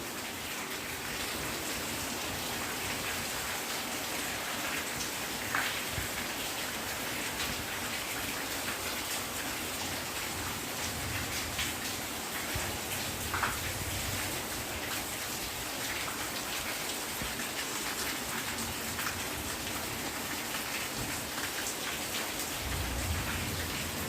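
Steady rain falling in the village of Golavshi in Lanja, a continuous dense hiss of drops on surfaces, close and even, with no talk.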